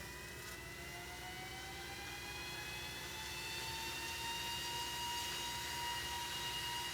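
An EAVision J150 agricultural spraying drone flies over big fields. Its rotors give a continuous high, whining hum with rising and falling harmonic tones, steady and moderately close, with no talk over it.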